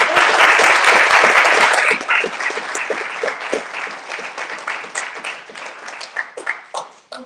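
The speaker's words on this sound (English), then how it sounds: "I think we need a big round of applause." Loud, dense audience applause closes a student government debate, then thins into scattered claps and crowd noise.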